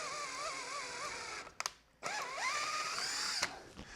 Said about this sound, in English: I'm tapping with a drill.